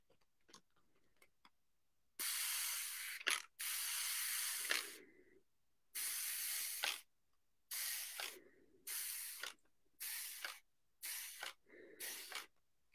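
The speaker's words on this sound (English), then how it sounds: "I'm going to spray my canvas." A hand-held water mister sprays a painting canvas in a series of sharp hissing bursts, a few long ones then shorter rapid pumps, close and crisp with quiet gaps between.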